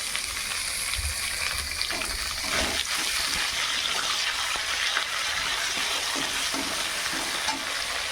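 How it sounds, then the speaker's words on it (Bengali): Fish head with ginger paste and chopped tomatoes frying in a pan, a continuous bright sizzle with occasional stirring scrapes and bubbling pops, close and steady throughout. "এবার এটাকে ভালো করে ভেজে নিই"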